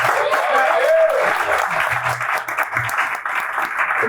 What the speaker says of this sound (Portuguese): Dê o melhor aplauso para o Rei da Glória!